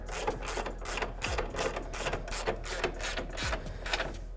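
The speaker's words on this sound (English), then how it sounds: "put your 13mm nut bolt in, pushing down firmly, and the same again," A 13mm nut and bolt on a VW T4 slam panel for a dual battery tray is tightened with fast, even, rhythmic mechanical clicking that carries on without a break, close up and moderately loud.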